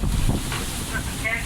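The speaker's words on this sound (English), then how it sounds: "Pretty soon we realise it's very windy out here" Strong wind buffets a small sailing boat at sea, a dense roaring rush with microphone wind noise and a few faint tonal whistles, loud and continuous over the short stretch.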